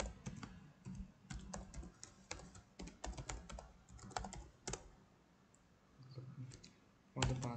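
Keys clatter in quick, uneven bursts of typing on a computer keyboard, close and fairly quiet, with short pauses between runs of strokes.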